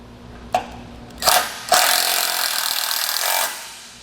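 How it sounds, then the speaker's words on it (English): A power drill drives a self-tapping screw into the frame of a Malone MegaSport heavy two-tier boat trailer. A few sharp knocks come first, then a close, loud whirring burst of about two seconds that stops abruptly. "get my self-tapper started in there"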